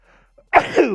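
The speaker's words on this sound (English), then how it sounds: "I have to sneeze." A single sharp sneeze bursts out after a brief quiet intake, loud and close, with a short trailing exhale.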